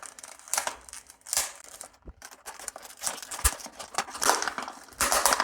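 Tough plastic packaging is torn open by hand, giving close bursts of crackling, crinkling and sharp snapping, broken by short pauses, with no talk.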